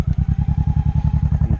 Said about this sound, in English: if I hold down the clutch and hit the start, I can start the bike